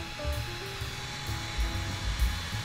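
A portable rechargeable electric fan blows in a steady, close, breathy whoosh much like a hair dryer, with a low motor rumble that wavers slightly and no talking over it.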